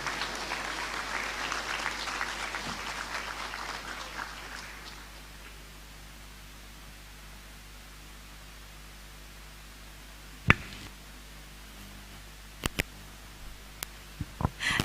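An audience applauds after a guest lecture, steady clapping over the first few seconds that fades out into room hiss, followed by scattered clicks and knocks near the end.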